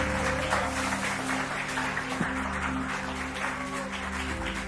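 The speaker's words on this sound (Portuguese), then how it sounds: "Pode aplaudir da glória." A church congregation applauding during a Portuguese-language worship service, with steady, moderately distant clapping and a sustained tone running underneath.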